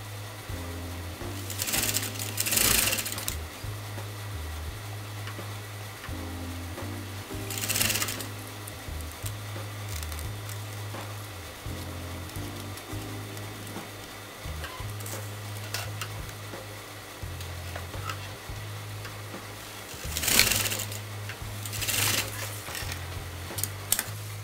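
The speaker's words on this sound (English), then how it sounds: "I'm going to sew that to the next side." A sewing machine stitches a zip onto a neckline, its steady mechanical whirring running in long bursts with short pauses and a few louder rustling handling noises in between.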